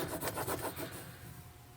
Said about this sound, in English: So you just start peeling at the corner